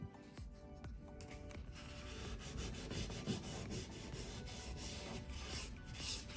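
Something lightly scrapes stuff off the edge of a tarot card in a quiet run of close, soft rubbing and rasping strokes, with no talking.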